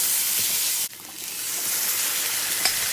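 Tomato tipped into a hot pan of browning onion masala for Rajmah (red kidney beans), a steady moderate sizzle with a sharp hiss burst as it lands, then settling frying.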